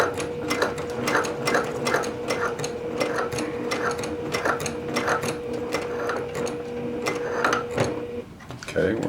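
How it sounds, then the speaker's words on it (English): A sewing machine stitches down the edge of a fabric courier bag. Its needle beats in a fast, even rhythm with a mechanical hum, up close, before slowing and stopping near the end. "We're going to sew down this edge."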